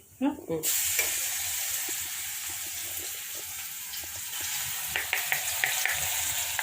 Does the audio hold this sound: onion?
yes